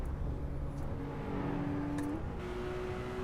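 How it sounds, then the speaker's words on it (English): Porsche engine in the Assetto Corsa racing game revving up through the gears on a highway cruise, a steady close engine drone with a rising pitch and one shift partway through. "let's try and get some speed. Try and get some speed in the Porsche."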